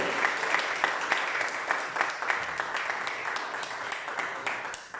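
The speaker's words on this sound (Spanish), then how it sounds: "¿Puedes aplaudir al Señor, hermano?" A church congregation bursts into warm applause, a dense wash of many hands clapping at once that stays strong for several seconds, then begins to thin out at the very end.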